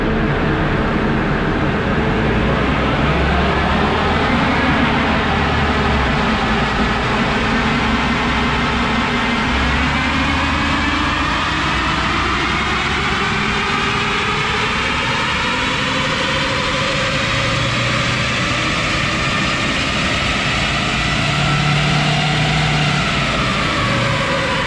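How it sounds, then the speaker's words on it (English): A Ford Ranger Wildtrak 3.2 diesel with a stage 1 ECU remap runs hard on a wheel dyno, its loud, steady engine drone swelling slowly in pitch throughout with no talking. "I'm now gonna run the dyno again to test the result, how much power is gained from the wheel"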